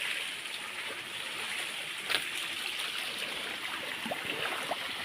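Clean water runs steadily from a bamboo spout at a rural home, a continuous close hissing splash with a few brief louder spatters.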